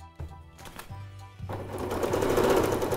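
A sewing machine stitches a small fabric coin purse: two short back-and-forth bursts, then a longer continuous whirring run, close and loud.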